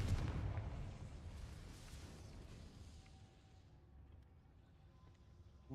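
A Confringo fire spell explodes in the Hogwarts Legacy video game, a loud deep booming blast at the start that rumbles and slowly fades away.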